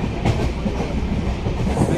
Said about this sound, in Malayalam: കോയമ്പത്തൂരിൽ നിന്ന് നേരെ പോയിക്കൊണ്ടിരിക്കുന്ന ട്രെയിനിൽ